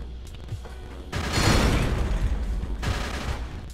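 Weapon fire in the video game Descent 3, bursts of rapid shots rising loud over a steady background rumble, with a second burst later on.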